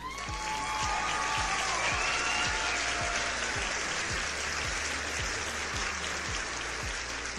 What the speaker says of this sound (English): So I think that gives a round of applause.